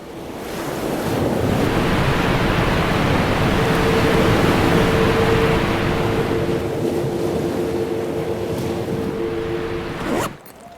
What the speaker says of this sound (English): All those random sounds of waves and waterfalls makes me want to pee